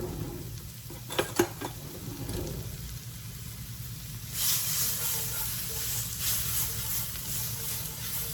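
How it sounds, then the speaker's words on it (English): Tomato paste is stirred and cooked in a pan, giving a continuous soft sizzling hiss that swells midway, with a couple of brief utensil knocks early on. "We're gonna stir that around really, really well."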